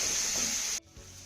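Chopped capsicum sizzles in a pan with a millet flour mix, a loud close hiss that cuts off abruptly partway through and leaves a quieter low sizzle.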